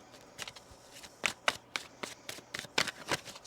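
Tarot cards being shuffled near the microphone, heard as a series of sharp, crisp slaps and riffles in an uneven rhythm, about a dozen distinct bursts over a few seconds against a quiet background.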